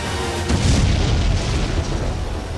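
Deep booming blasts from an overnight attack on Krasnodar roll in heavily, a dense low rumble that swells around the half-second mark and lingers as a sustained thundering haze.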